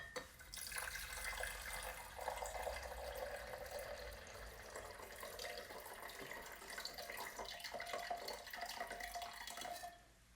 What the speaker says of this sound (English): We're actually just going to pour it back into here now.